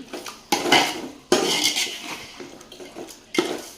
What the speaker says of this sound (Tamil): கறியை போட்டு நல்லா கிண்டி